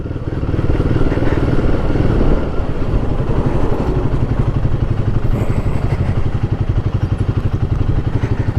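A Royal Enfield Guerrilla 450 motorcycle engine drones loudly and steadily throughout a ride, with a continuous low rumble and rattling clatter and no speech.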